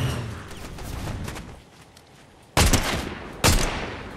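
Fortnite gunfire rings out in a ranked solo Zero Build match with a DMR, mixing scattered mid-level shots with two loud, sharp bursts near the end.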